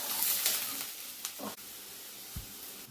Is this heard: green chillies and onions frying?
yes